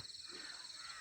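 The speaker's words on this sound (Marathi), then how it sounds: "पक्ष्यांची किलबिलाट" A crow caws once in a misty early-morning village among hills in Konkan farmland, a faint, distant call set against soft background ambience.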